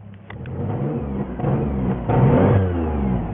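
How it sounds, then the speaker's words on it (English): A van's engine revs repeatedly, medium-pitched surges rising and falling in short pushes, close and fairly loud with no talk over it. "you go ahead and try revving it"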